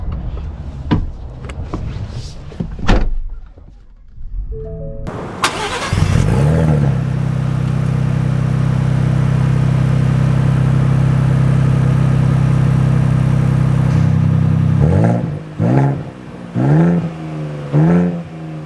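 A Ford Bronco Raptor or Ineos Grenadier SUV cranks and fires up, then settles into a loud, steady engine drone that holds close by for about ten seconds before revving in a few short pulses.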